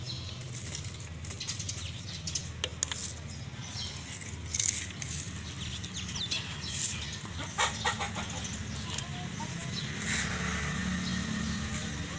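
Chickens cluck and flap their wings at feeding time, with scattered wingbeats and soft calls over a low outdoor rumble.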